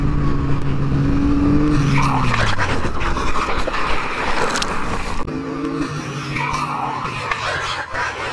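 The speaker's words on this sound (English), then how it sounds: "Front wheel slid out." A motorcycle's front wheel skids out with loud, continuous engine and tire noise filling the scene, a sliding scrape and squeal rising near the start and sustained roaring throughout, fairly close and alone without talk.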